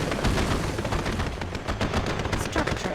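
Units in Red Alert 2's Soviet campaign mission in Paris fire their guns in rapid, continuous machine-gun bursts, steady and moderately loud, with no one talking.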